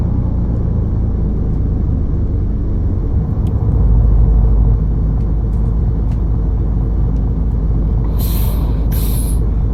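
Air brake hiss of a coach handbrake being set in Fernbus Coach Simulator, a low steady engine rumble throughout with two sharp bursts of pressurised air near the end.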